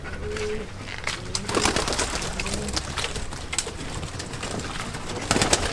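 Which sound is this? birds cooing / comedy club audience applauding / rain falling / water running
birds cooing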